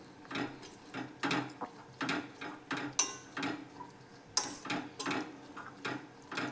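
Carrot halwa mixture with milk stirred in a pan, a spoon scraping and knocking against the metal in repeated irregular strokes, close and moderately loud, with no talking.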